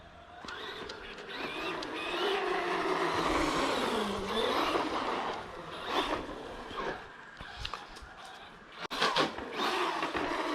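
Traxxas Hoss RC monster truck driving and popping a wheelie, its electric motor whining and rising in pitch with surges and scuffs, fairly close, with no talk.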